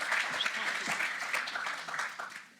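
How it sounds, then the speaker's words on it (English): Audience applause at a start-up finance event, a steady wash of clapping from a modest crowd, fairly close, fading slightly at the end. "a big round of applause"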